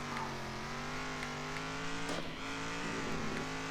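Racing truck engine in the Circuit Superstars video game drones in a steady, even tone while the driver eases off the throttle, with a brief tyre scrub in the middle and no talk.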